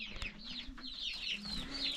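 A rooster in a Nepali village clucks and calls in repeated short phrases, fairly near, over faint outdoor background noise.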